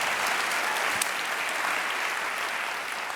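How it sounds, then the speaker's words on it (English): A keynote audience at a large tech conference breaks into sustained, even applause that fills the hall at a moderate level, with no voices over it. "How about a round of applause for Stephen Driggs from Stanley Black & Decker."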